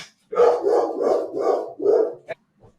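Indoor dogs bark in a rapid series of five loud, evenly spaced barks, followed by a short sharp yip and a faint final whimper, with no voices present.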